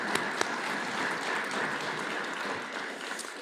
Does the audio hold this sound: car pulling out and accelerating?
no